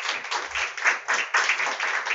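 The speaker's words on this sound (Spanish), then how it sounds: "Si lo cree, dele un aplauso al Rey" Church congregation claps, bursts of handclaps rising and falling in uneven waves for about two seconds in a fairly reverberant hall, with no talk over them.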